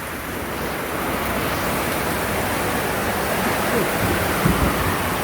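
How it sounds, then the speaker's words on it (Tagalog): Dense, steady roar of heavy rain with a gusty wind wash in Montalban, Rizal, continuous and loud throughout, with no talking. "Ayan yung ulan, bumanat na naman. Ang lakas-lakas."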